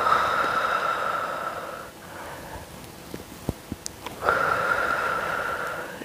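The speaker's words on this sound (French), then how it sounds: "Inspire, expire. Inspire, expire." Steady breathing in and out during a power yoga session: two long, even breaths with a quieter gap between them, close and alone with no talk.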